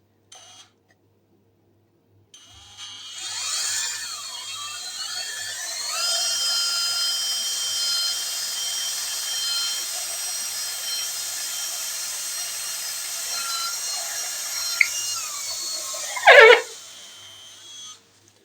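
A sharp drill bit boring steadily into a soft vermiculite block for a mini gas forge, a continuous close whirring grind lasting most of the clip, ending with a brief louder burst as the bit breaks through.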